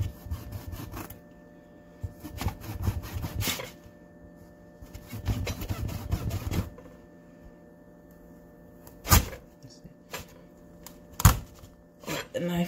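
A knife saws through the hard shell of an acorn squash to halve it, giving several rough, scraping strokes in bursts with sharp thunks and pauses between them, close and fairly loud.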